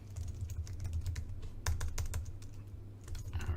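Rapid keystrokes on a computer keyboard as an email address is entered, a close, steady patter of clicks with a few louder taps and a low hum underneath, no talking.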